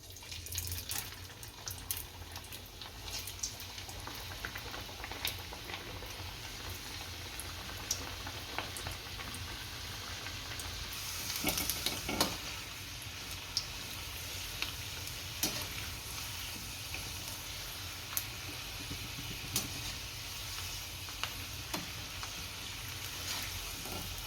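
Wheat-flour ghughra pastries, spicy and samosa-like, deep-fry in hot oil with a steady crackling sizzle and occasional sharper pops and scraping stirs, heard close and without talk.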